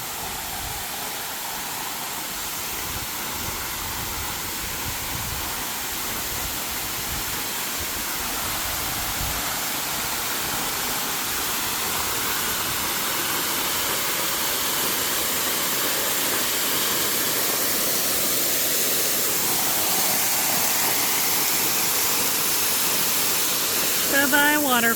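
A summer waterfall at Upper Piney Falls roars as a broad, steady rush of white noise, heard continuously and fairly close. A rising tone cuts through near the end.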